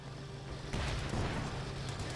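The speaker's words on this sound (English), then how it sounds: "Good hit by the Churchill Crocodile." A Churchill Crocodile tank scores a hit in Company of Heroes 2, a deep booming impact that bursts out about a third of the way in and rumbles on beneath a steady hum of background battle noise.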